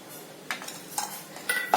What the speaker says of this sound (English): Going to mix it well